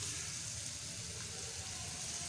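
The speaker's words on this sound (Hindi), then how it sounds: "उसके बाद बिल्कुल थोड़ा सा पानी डालेंगे" A thin, steady stream of water poured into a vegetable cutlet spice mix, a continuous soft hiss and trickle heard up close, with no talking.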